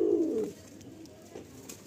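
Madrasi pigeons coo in a soft, low, rolling call near at hand that fades after the first half-second, leaving faint background noise.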